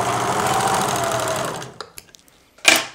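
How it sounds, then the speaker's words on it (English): A serger overlock machine runs at full speed, loud and close, sewing a 3-thread rolled-hem edge on a single layer of napkin fabric, then stops and is followed by a few light clicks and a short rustle. "I'm just going to serge off the edge and see what my stitch looks like"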